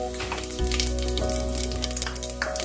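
Whole spices (black and green cardamom, cloves, cinnamon) and half a teaspoon of cumin hit hot oil for mix veg tehri, erupting into a loud, steady sizzle that continues close up without talk.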